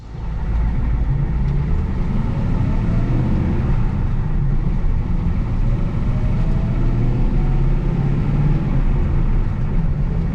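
A 1986 Ford F250 with a 6.9 diesel and four-speed manual drives along with a steady, loud low rumble heard from the cab, engine drone holding even throughout.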